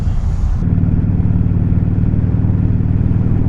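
A motorcycle engine idles steadily and close by, a low rumbling drone that holds even for a few seconds after a brief higher-pitched start, with no talking.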